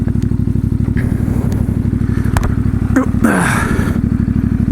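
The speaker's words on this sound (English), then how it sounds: "I know you probably want to be sitting here hearing this bike" A CFMOTO 450MT motorcycle engine idles with a steady rapid chug, close by, with some clatter and a brief scrape partway through.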